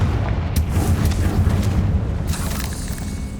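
A Confringo fire spell blast in the game Hogwarts Legacy, a loud, dense low rumbling boom that rolls on for several seconds with crackling bursts on top and no talk.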